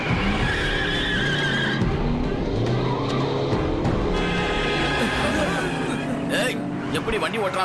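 A car skids and races past during reckless driving, loud engine and tire noise over a busy background of crowd babble and music, with a sharp screech near the end.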